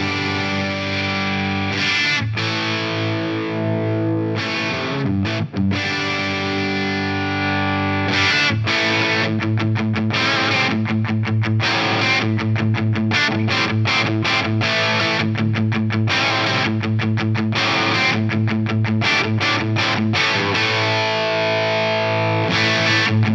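Electric guitar riffs through the overdrive channel of a Kitty Hawk Quattro preamp, loud and continuous, with choppy palm-muted chugs alternating with sustained distorted chords and no talking.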